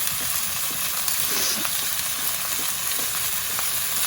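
Vegetables sizzle steadily in hot oil in a pan for Bengali gobindobhog rice khichuri, with soft scraping stirs throughout and a constant close frying hiss.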